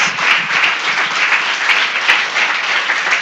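A church congregation claps steadily together in worship, a dense, sustained wash of many hands filling the room at close range, with no voices rising above it.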